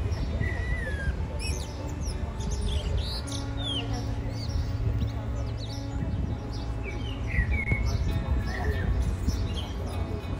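A thrush singing in a large olive tree in central Baku: scattered bright chirps and short whistled phrases, moderately distant, over a steady low street hum.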